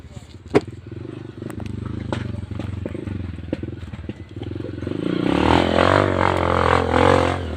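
A motorcycle engine runs steadily near an outdoor kitchen, a low continuous rumble with clattering that swells louder toward the end, under people talking.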